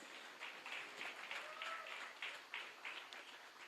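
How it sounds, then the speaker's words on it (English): Audience at a youth league gala dinner breaks into applause, a faint, distant wash of many hands clapping in uneven bursts across a reverberant hall. "I would like us to clap hands for him"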